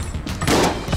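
Rapid gunfire from shooting in Enter the Gungeon, a dense burst of close, punchy shots and thuds over about a second.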